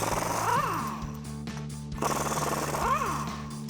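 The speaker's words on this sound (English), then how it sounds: "Next, we can take an 18mm socket to remove our two lower strut nuts." A power tool with an 18mm socket removes the lower strut nuts on a 2021-2024 Ford Bronco, sounding as two close, loud bursts of rattling whir separated by a short pause.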